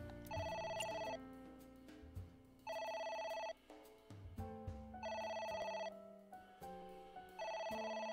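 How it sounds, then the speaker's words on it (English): A ringing telephone in the video game AI: The Somnium Files, repeating in regular bursts of bright electronic rings separated by short gaps, heard over a low background music bed. "It's ringing again."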